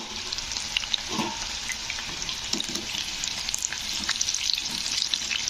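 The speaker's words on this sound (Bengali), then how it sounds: "চিকেনগুলো কিন্তু ভাজা হয়ে গেছে তো এবারে আমি চিকেনগুলো তেল থেকে তুলে নেব" Chicken pieces deep-fry in oil for chilli chicken, a loud, continuous close bubbling sizzle with scattered crackles and occasional soft knocks throughout.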